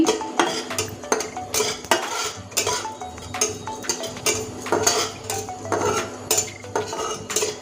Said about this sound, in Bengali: এবার সুন্দর করে নেড়ে নিচ্ছি